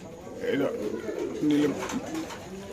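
Teddy pigeons coo close by in soft, throaty bursts, mixed with people talking nearby at a pigeon farm.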